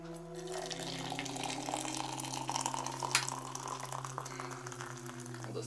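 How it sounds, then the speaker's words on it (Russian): Boiling water runs from a kettle into a container holding baking soda, a steady, close trickle and splash that continues for several seconds. "И наливаем кипяток."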